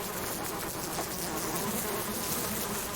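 A swarm of bees drones in the survival game Subsistence, a dense, continuous buzzing that stays loud and even throughout with no talk.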